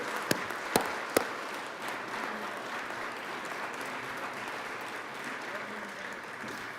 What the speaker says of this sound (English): colleagues, encourage these folks with some applause as they move on in through their educational pathway